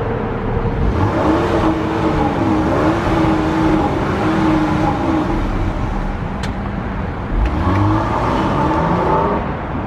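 A 2021 Dodge Durango GT SUV on 21-inch rims drives along the road, its engine hum rising and falling steadily under broad tire and road noise from inside the cabin, without any talking.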